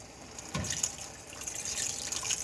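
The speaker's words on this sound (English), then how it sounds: "about a half a cup of water." About half a cup of water is poured into a pot of simmering spaghetti sauce, giving a soft splash followed by a steady, gentle liquid hiss.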